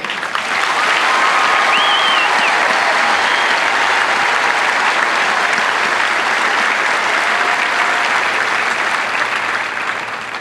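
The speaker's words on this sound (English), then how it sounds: "how about a round of applause for these exceptional airmen?" A large audience at an Air Force Basic Military Training coin ceremony gives sustained, dense applause for the new airmen, loud and unbroken for about ten seconds, with faint voices and a whistle or shout rising within it.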